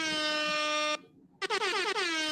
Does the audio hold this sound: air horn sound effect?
yes